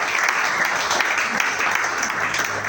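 Church congregation applauds steadily in a sustained, even wash of clapping during a worship service, with no pause across the stretch.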